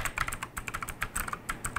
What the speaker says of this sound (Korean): 타이핑을 타건을 하다 보면 이게 딸깍거리는 음 때문에 쫀득거린다라는 이런 착각이 아니라 실제로 얘는 쫀득거려요